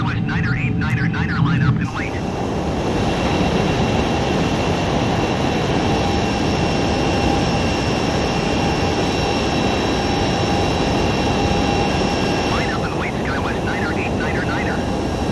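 In Microsoft Flight Simulator, an aircraft's jet engine runs with afterburners on in a loud, steady roar. Someone speaks briefly at the start and end.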